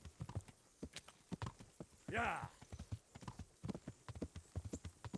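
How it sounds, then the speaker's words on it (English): Horse hooves clip-clop in a steady rhythm in the Kingdom Come: Deliverance video game, close and clear, with a brief whinny partway through and someone talking over it. "He's actually going to attempt to keep up with the horse."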